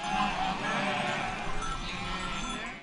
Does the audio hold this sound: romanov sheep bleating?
yes